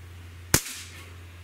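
An Umarex Legends CO2 .177 cowboy rifle fires a single shot, a sharp, loud, close crack that decays quickly over a low steady hum.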